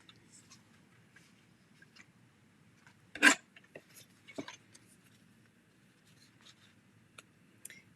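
A small paper trimmer slices through paper at a quiet crafting table: one sharp, crisp cut, then a second softer one a moment later, with faint rustling and tapping around them.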